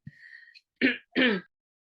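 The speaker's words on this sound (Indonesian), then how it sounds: "saya lagi agak batuk." A throat clearing followed by two short, harsh coughs close to the microphone, separated by brief silences, with no talking.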